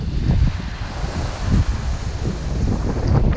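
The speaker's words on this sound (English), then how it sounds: "The wind's getting really gnarly now." Strong gusting wind buffets the microphone while big waves crash on the beach at Hopton on Sea at high tide, loud rumbling surges rising and falling without talk.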